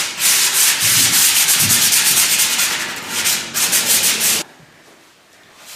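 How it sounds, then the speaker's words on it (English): Fine sandpaper rubbing over wooden table legs in steady, close back-and-forth strokes that stop abruptly near the end, leaving a quiet room. "The table leg's in a pretty good shape, so we're just giving them a very quick sand off with some fine sandpaper."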